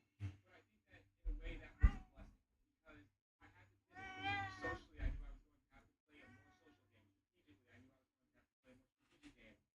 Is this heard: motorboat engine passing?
no